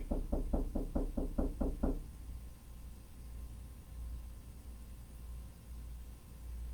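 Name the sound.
knocking on a door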